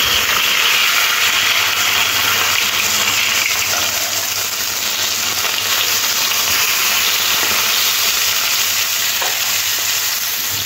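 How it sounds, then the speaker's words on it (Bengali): Bata fish pieces fry in hot oil, turned from side to side, giving a loud, steady, dense sizzle that runs unbroken with a few faint scrapes of a utensil underneath. "মাছগুলো তেলের মধ্যে দিয়ে এপিট ওপিট করে লাল লাল করে ভেজে নেব।"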